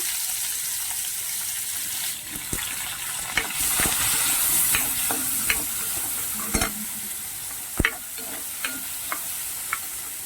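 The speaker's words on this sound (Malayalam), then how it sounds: "അതിലോട്ട് രണ്ട് വറ്റൽമുളക് ഇട്ട് കൊടുക്കുന്നുണ്ട് അരിഞ്ഞു വെച്ച സവാള കൂടെ ചേർത്ത് കൊടുക്കുന്നുണ്ട്" Dried red chillies and chopped onion fry in a pan for a Kerala drumstick masala curry, giving a soft, steady sizzle broken by scattered light taps and clinks of stirring.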